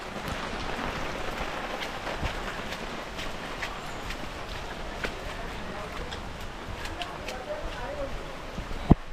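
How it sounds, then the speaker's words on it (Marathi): Steady rain pours over a village gathering outdoors, a close, continuous patter with a few sharper drops standing out near the end. "सकाळपासून पाऊस पडतोय"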